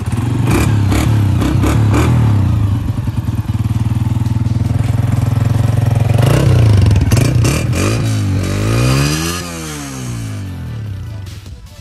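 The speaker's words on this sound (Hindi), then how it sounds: "आप इसको स्टार्ट करके इसका साउंड तो सुनाया हमें" A 2021 Honda CG 125 motorcycle engine idles loudly with a heavy thumping, then revs up and down repeatedly, the pitch rising and falling in waves, close by.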